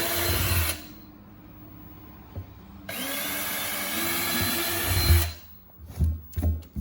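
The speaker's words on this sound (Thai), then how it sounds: "เจาะรัวกระถางให้จ้ะ" A power drill bores holes into a plant pot in two loud, whining bursts separated by a quieter pause, followed by a few short stuttering trigger pulls near the end.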